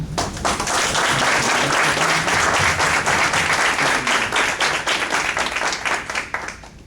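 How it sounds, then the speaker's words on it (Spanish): Sustained audience applause at a talk on family farming and public policy, many hands clapping densely and steadily, loud throughout, with no voices over it. "yo pediría un aplauso"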